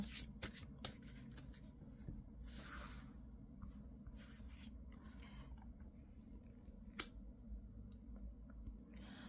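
Tarot cards being shuffled and drawn, heard as faint soft swishes and scattered light clicks over a low, steady background hum.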